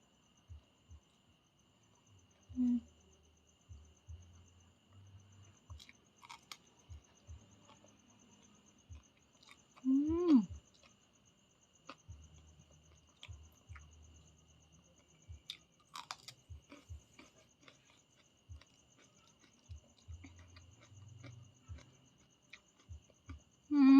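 Close, wet biting and chewing of chili eaten with small fermented fish, a few sharp crunchy bites among quieter mouth sounds, with faint steady background ticking.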